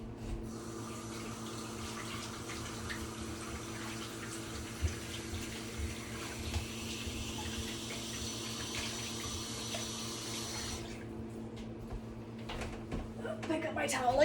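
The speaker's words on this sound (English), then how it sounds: "I need to wash my hands, get myself situated." Hands are washed under a running kitchen sink tap while a steak dish is being cooked: a steady rush of water flows for about ten seconds and then cuts off, with a faint voice in the background.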